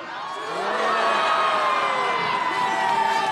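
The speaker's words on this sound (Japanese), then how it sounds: "北澤さんらのシュートが決まると、会場からは大きな歓声が起きていました" Spectators cheer loudly at a youth football match in Katsushika, Tokyo, where a team of former Japan national players faces off; a swelling roar of voices, including children's shouts and whoops, carries steadily without speech.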